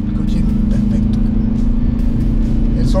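A Kia Forte GT hatchback from 2022 accelerates through a curve. Its engine gives a steady, loud, droning hum throughout, while a person talks over it.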